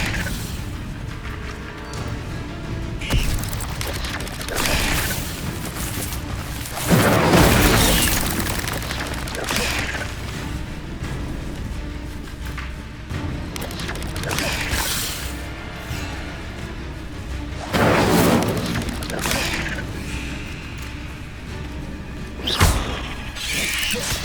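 A fire spell is cast again and again in Hogwarts Legacy amid the clatter of magical combat, with loud, booming bursts landing every few seconds over steady battle noise.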